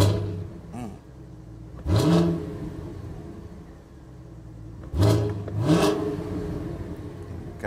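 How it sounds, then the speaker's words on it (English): A Cadillac CT5-V Blackwing's GM V8 quad exhaust revs hard twice in track mode, each rev a loud rising roar that settles back to a rumbling idle between. "Put this thing in track mode so we can hear it all. Gonna open up that quad exhaust."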